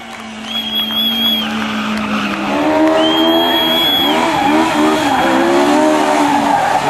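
Stunt car tires squeal and skid loudly at an indoor tuning show arena, long rising and falling screeches layered over a roaring engine, up close and continuous.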